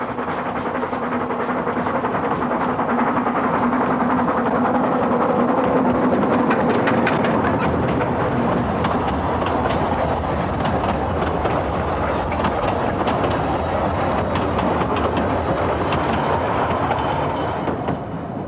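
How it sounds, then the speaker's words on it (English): Talyllyn Railway's homegrown sixth steam locomotive, Tom Rolt, on Welsh narrow-gauge track, passing at speed: a steady, loud rumble of steam exhaust and rolling wagons with clattering rail joints and hiss, sustained throughout without talk. "is passed at speed by the Talyllyn's homegrown and 6th working steam engine"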